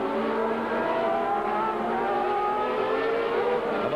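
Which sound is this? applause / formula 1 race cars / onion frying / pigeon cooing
formula 1 race cars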